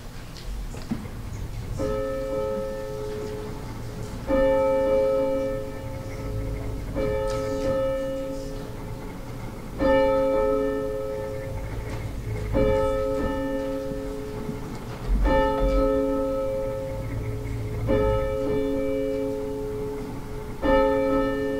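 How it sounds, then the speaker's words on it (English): A church bell tolls slowly and evenly before the opening hymn of a Christmas service, ringing about nine strokes at regular intervals, each resonant stroke fading under the next. "we will have the ringing of our bell followed by our opening hymn"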